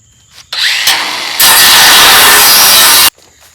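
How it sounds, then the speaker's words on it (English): A battery-powered cutoff wheel cuts through material for a DIY hay feeder, a loud, continuous high-pitched grinding whine that starts, briefly dips, then runs steadily for nearly two seconds before stopping abruptly. "Hopefully I can do it all with one cutoff wheel."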